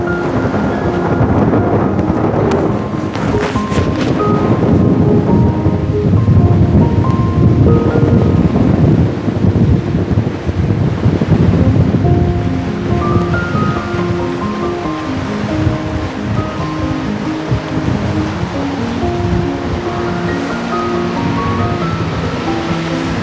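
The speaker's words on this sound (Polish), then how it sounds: "ja czasami lubię poczuć taki mocny wiatr" Strong wind blowing over a lake, heard from a pier: loud continuous buffeting roar and microphone rumble with gusty surges, no voices.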